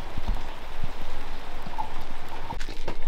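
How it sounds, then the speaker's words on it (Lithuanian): Heavy rain pours down steadily in a village in sunshine, a dense close hiss with scattered heavier drops and patters striking a surface, with no voices. "Pila lietų, kaip priklauso."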